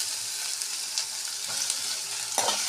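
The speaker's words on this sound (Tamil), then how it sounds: "வெங்காயம் வதங்கிடுச்சு." Chopped onion sautés in hot oil with turmeric and asafoetida in a home kitchen, a steady close sizzle and crackle with a few brief stirring scrapes near the end, no voices.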